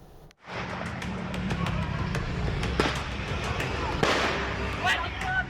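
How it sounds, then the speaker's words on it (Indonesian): A teenage motorcycle gang throws firecrackers at people at night in Cikupa, Tangerang, Banten. Repeated sharp cracks and bangs rise over steady street noise, with one stronger burst around the middle, and voices can be heard. "Gerombolan remaja bermotor menyerang warga dengan petasan di kawasan Cikupa"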